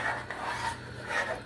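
A utensil scrapes steak drippings loose from the bottom of a pan over medium heat with chicken broth, giving a continuous rough rasping close by with a few stronger strokes.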